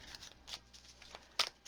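Tarot cards being shuffled by hand, giving a string of soft, brief papery riffles and flicks at an uneven pace, close and quiet, with a sharper burst near the end.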